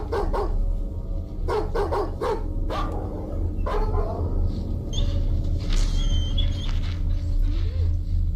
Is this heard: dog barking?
yes